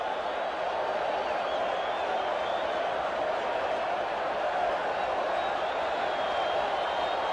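Busch Stadium crowd cheering at a World Series game, a steady broad roar of many voices that holds at an even loud level throughout without breaks.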